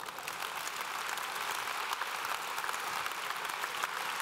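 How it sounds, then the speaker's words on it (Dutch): A congress audience applauds in a large hall, a steady, even wash of many hands clapping that sounds distant and soft throughout. "Mag wel een applaus hoor."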